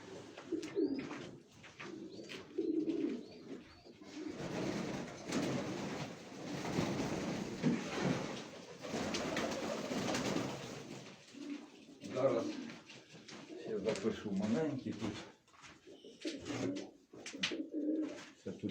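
Pigeons coo repeatedly nearby at a breeder's loft in Mykolaiv Oblast, Ukraine, soft throaty calls recurring throughout while someone talks at length and a train rumbles in the background.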